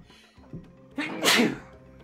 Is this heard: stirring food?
no